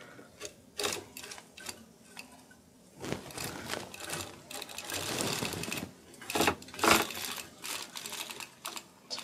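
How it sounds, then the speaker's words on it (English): A hand-cranked circular sock machine is turned through one round, giving a close, uneven run of rapid clicking and clattering needle taps that swell and fade with the cranking. "And I'm going to just crank one round."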